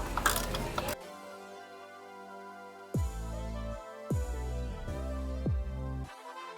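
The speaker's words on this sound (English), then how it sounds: "now we'll remove two 13mm bolts" A ratchet wrench turns 13mm bolts on a BMW M3 E36, giving a quick burst of clicking followed by several short, close ratcheting runs separated by brief pauses, with no talking.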